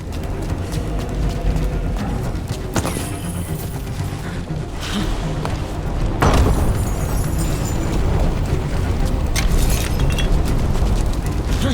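Loud booming explosions and heavy impacts during combat in Dragon Age: The Veilguard, several bursts over a dense rumbling battle din, with a sharp blast around the middle followed by sustained roaring noise.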